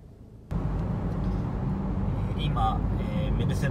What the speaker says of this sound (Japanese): 今、メルセデスベンツ C クラス、フェイスリフト、新しい C の200の自動運転中です。